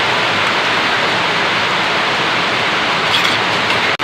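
Dense, steady hiss of heavy rain pouring outside, loud and continuous, cutting off abruptly at the very end.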